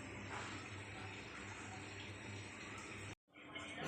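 Tap water runs steadily into a sink while dishes are washed at home, a continuous rushing wash that cuts off briefly near the end and then resumes.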